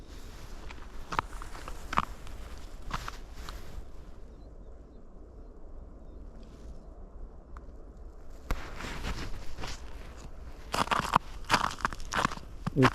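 Footsteps crunch through lingering snow on the ground during a rare Louisiana snowstorm, a near, irregular series of crisp crunches with a quieter pause in the middle.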